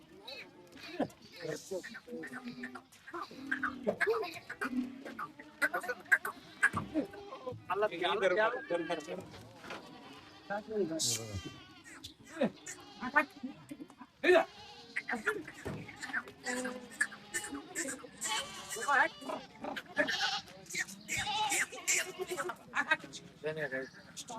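Red Kathiawadi goats at a busy livestock market bleat repeatedly among the crowd, their calls mixed with constant nearby chatter and voices.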